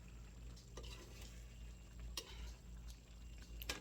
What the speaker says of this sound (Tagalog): O ayan na yung patatas, halo na natin